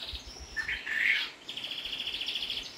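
A small Nagasaki bantam hen gives high, thin chirps, one brief louder call near the middle followed by a steady run of soft, rapid peeps over a quiet outdoor background.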